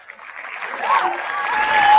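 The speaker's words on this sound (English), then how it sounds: "Can we give everybody a round of applause?" An audience at a leadership talk breaks into applause that swells steadily over two seconds, with a voice briefly audible at the start.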